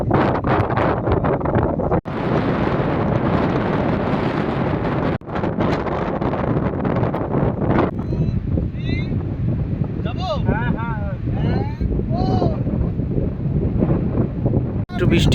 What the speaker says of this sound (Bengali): দারুণ লোকেশন, অপূর্ব হাওয়া দিচ্ছে।